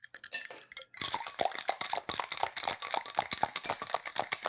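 Ice rattles hard inside a cocktail shaker as a drink is shaken, a fast, loud run of close clinks and clatters that starts after a short quieter moment, with no talking.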